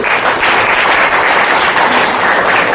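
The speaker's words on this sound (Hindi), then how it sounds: "एक बार जोरदार तालियां होनी चाहिए।" Loud, dense applause from an audience celebrating a company's sixteenth anniversary, a steady wash of many hands clapping close up with no pause and no voices.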